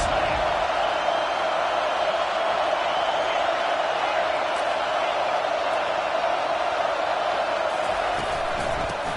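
Dense, steady roar of a packed Ohio State football stadium crowd, loud and continuous throughout, with a broadcast commentator speaking over it.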